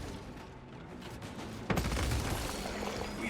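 Sniper gunfire in the Space Marine video game: a sharp heavy report bursts out partway through, followed by a dense sustained roar of game combat.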